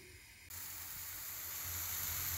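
Mushrooms browning in a pan for an omelette with spinach, a steady, faint sizzling hiss that jumps louder partway through and then holds, without any talk.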